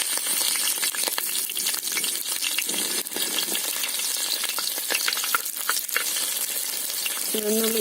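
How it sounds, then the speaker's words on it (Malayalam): Garlic and mustard seeds sizzle in hot oil in a pan, a close, continuous crackling fry with sharp pops and spits throughout, joined by a faint clink near the end. "കടുക് പൊട്ടി വരുമ്പോൾ വെളുത്തുള്ളി ഇട്ട് കൊടുക്കാം."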